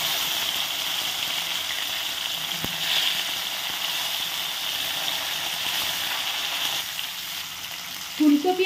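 Cauliflower fries in hot oil with a steady, bright sizzle that holds evenly throughout, plus a few faint clinks near the end.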